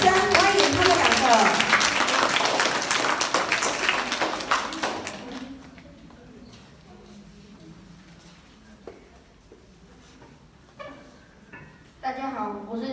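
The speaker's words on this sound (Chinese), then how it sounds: "来，大家用热烈的掌声欢迎他们两个。" An audience applauds at the opening of an elementary school talent show, loud dense clapping for about five seconds that fades to scattered claps. Faint voices follow.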